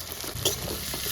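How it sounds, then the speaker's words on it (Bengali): Onions stirred in hot oil with ginger, garlic, capsicum, carrot, beans and tomato for chicken chow mein, a close, continuous sizzle with soft scraping stir strokes, brief and alone without talk. "ওই তেলের মধ্যেই আমি পেঁয়াজগুলো দিয়ে দিচ্ছি।"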